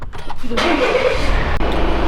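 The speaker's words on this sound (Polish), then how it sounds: "Tak, musimy samochód startnąć." A car's engine cranks and starts, settling into a steady low idle over the two seconds, loud and close, with no talk over it.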